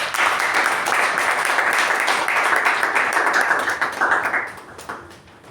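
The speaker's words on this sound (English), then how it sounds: "Please welcome her with a huge round of applause." Dense applause fills the room at a Toastmasters club meeting as the club president is welcomed, a steady wash of many hands clapping that tapers off near the end.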